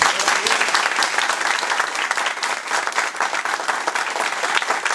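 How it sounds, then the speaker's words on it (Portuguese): Congregation applauding in a church service, a dense, sustained wash of clapping that stays steady and loud throughout, with a faint voice here and there in the mix. "Aplauda Jesus bem forte."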